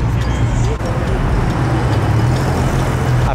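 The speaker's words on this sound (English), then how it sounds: "Some more M cars coming in" BMW M cars rolling into a Miami car meet, a continuous low engine and road rumble close at hand, steady throughout with crowd noise and scattered talk around it.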